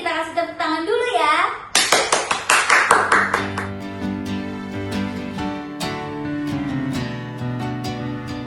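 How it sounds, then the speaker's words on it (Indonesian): Hands clap in a quick rhythmic run during an online children's special needs worship service, sharp and close, before background music with sustained tones takes over. "Sebelumnya kita kasih tepuk tangan dulu ya."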